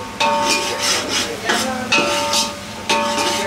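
Tomato paste being stirred into a cooked ginger-onion paste in a pot for homemade dum biryani, a thick, wet scraping and squelching in repeated strokes, loud and close, with no voices.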